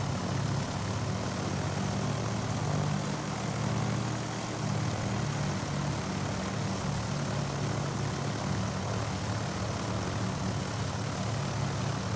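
A Piper Seminole twin-engine propeller airplane taxis at Tucson International Airport in Microsoft Flight Simulator 2020, its engines droning steadily and loudly at low idle throughout, with no voices.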